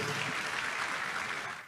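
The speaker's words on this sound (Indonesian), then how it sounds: "Yang setuju boleh berikan tepuk tangan yang paling meriah buat Tuhan." A church congregation at a men's service gives lively applause, a thick, even wash of many hands clapping that fades slightly at the end.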